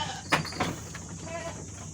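A small young goat gives a couple of short bleats close by, with someone talking quietly in the background.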